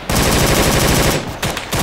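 Rapid automatic gunfire in the Arma 3 video game rattles loud and close in a dense continuous burst, breaks off briefly, then resumes with a few more shots.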